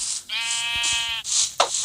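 A sheep in a survival video game gives one close, loud, wavering bleat lasting about a second, followed by a brief rustle, with no speech.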